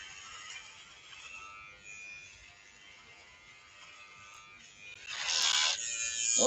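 Electric hair clippers shaving a head at a St. Baldrick's charity event. A close, steady buzz strains and then turns louder and harsher near the end as the motor labors.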